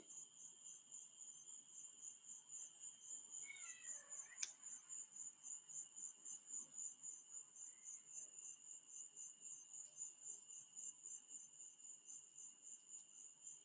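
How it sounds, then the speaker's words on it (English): Crickets chirp steadily at night in the American South, a constant high trill pulsing through the whole stretch with faint background hum and a brief rustle near the start. "let y'all hear the crickets."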